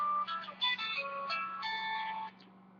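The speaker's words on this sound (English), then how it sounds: "My phone is ringing." A mobile phone ringtone plays as a bright, melodic electronic tune of repeating tones, fairly loud and close, lasting a couple of seconds before cutting off, with a steady low hum underneath.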